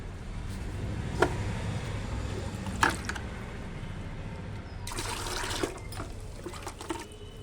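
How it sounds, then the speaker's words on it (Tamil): Water sprinkles and trickles onto freshly stirred soil in soft spattering bursts while planting fenugreek greens, with a couple of sharp taps and a louder splashing stretch toward the end. "இப்போ லேசாக நம்ம தண்ணி தெளிச்சுக்கலாம்"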